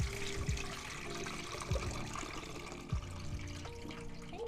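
Rice being rinsed with running water, a steady splashing trickle broken by a few brief sloshes and knocks as the grains are swirled, close and alone.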